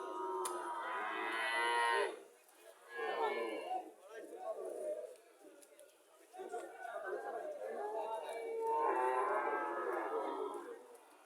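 Cattle moo repeatedly in drawn-out calls at a moderate distance at a cattle market, mixed with a murmur of people talking in the background.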